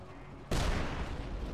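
Gunfire erupts in the video game UnMetal, a sudden loud burst that breaks in after a quiet half-second and keeps crackling and rumbling as a dense volley.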